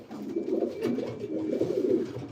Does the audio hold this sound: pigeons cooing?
yes